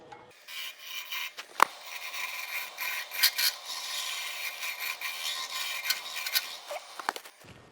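A carbide lathe tool cuts a wooden bowl turned from a branch, giving a close, uneven rasping scrape with irregular bursts and sharp clicks over a steady hiss. No one speaks.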